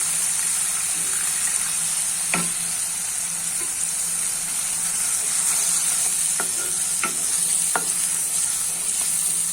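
Spice paste for a boiled egg curry is stirred and fried in oil in a pan, a steady close sizzle with a few sharp spatula scrapes and knocks against the pan, no voices.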